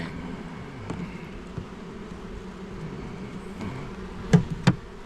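Honey bees hum in a low, steady drone around an open Langstroth hive during an inspection, a continuous mid-level buzz with a couple of brief louder clicks near the end.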